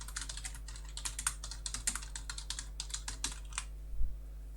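Steady, fairly quiet typing on a computer keyboard, with quick irregular key clicks for several seconds, then a pause and a soft thump, over a low electrical hum.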